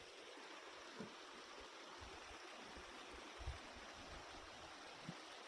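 A forest stream flows with a faint, steady rushing wash, distant and even throughout with no voices.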